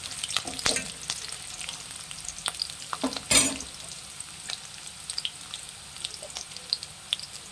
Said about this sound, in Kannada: ಫ್ರೆಂಡ್ಸ್ ಇದನ್ನು ಚೆನ್ನಾಗಿ ಫ್ರೈ ಮಾಡಬೇಕು.